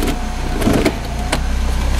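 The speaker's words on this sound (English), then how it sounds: "Obviously power moonroof works." Electric power moonroof motor running inside a 1998 Pontiac Sunfire, a loud continuous whirring hum with a steady pulsing buzz close to the microphone, no voices.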